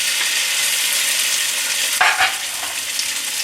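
Marinated beef stir-frying in vegetable oil over medium-high heat, a loud continuous close sizzle with a brief clatter and scrape of a utensil partway through, no voices.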